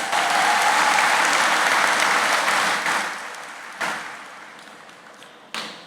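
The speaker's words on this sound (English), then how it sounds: "Give yourself a round of applause" An audience at a residence and belonger status certificate ceremony applauds, a full burst of clapping that fades over a few seconds, followed by a couple of isolated taps or bumps close to the microphone.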